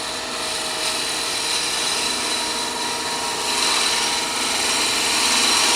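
Steady, loud whirring and hissing of a wood lathe as a fingernail-ground gouge cuts a small finial, the turning noise continuous and unbroken throughout.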